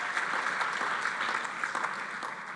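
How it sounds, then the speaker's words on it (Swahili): Crowd applause greets members of a County Assembly at a full-house public gathering, steady clapping from many hands filling the hall without pause and with no talk over it. "wapigiwe makofi hao"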